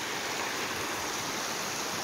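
Snowmelt creek water rushing steadily over a normally dry creek bed during spring thaw, a dense, even wash of flowing water close by with no pauses and no voices.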